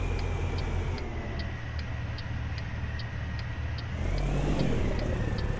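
Truck engine from the Kriechbaum sound pack in American Truck Simulator drones steadily at low revs, with a regular ticking indicator over it, then the engine note rises and thickens as a gear change takes hold.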